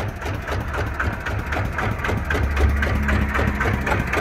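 A Kubota ET110 single-cylinder tractor engine fitted in an L200 pickup idles up close, a loud, steady low thumping chug with an even, rapid rhythm.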